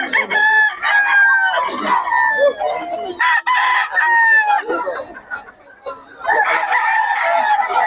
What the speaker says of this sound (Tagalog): Ang manok ni Boss Mark yan.